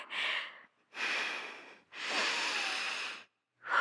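Slow, deliberate breathing exercises to calm down: three long, airy breaths spaced by short pauses, close and fairly soft, with a fourth starting at the end; no talking.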